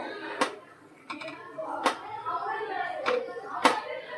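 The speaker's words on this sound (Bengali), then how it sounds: "এবার হাতা দিয়ে নাড়তে থাকবো।" Ladle stirring in a milk pan (karai) while cooking Bengali semai, sharp metallic scrapes and taps against the pan at irregular intervals, close, with someone talking underneath.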